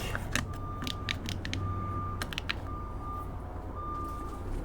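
A sailboat's automatic pilot gives steady electronic beeps in several drawn-out tones, set over a low, constant background rumble with scattered faint clicks and knocks.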